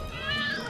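A cat meows in a drawn-out, wavering cry, fairly close, with a soft background murmur.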